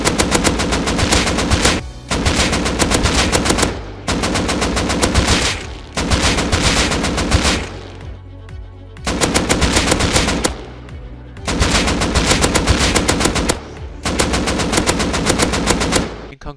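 Automatic rifle sprayed at a target 100 meters away in the game Rust: long sustained bursts of rapid, loud gunfire, five strings of roughly two seconds each separated by short pauses, with no talking.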